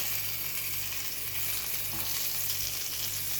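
Brinjal pieces fry in a pan, giving a constant close sizzle with faint stirring scrapes and no voices over it.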